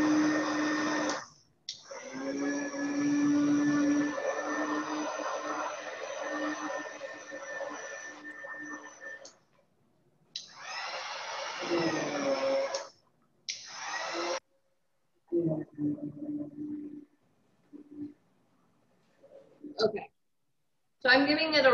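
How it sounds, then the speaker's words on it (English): A blender roughly blends hot food in batches, a loud whirring motor run in several bursts of different lengths separated by silences, while a person talks between them. "I'm giving it a rough blend right now."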